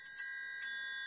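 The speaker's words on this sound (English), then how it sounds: "I also today have a triangle." A metal triangle rung with repeated strikes, about three hits, each leaving a sustained, shimmering high ring that carries on between strokes, close and alone.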